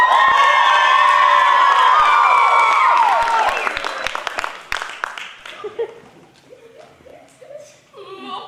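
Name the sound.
audience screaming loudly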